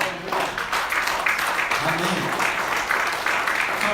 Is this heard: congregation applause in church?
yes